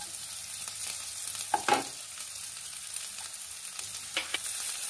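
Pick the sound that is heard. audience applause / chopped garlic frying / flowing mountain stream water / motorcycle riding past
chopped garlic frying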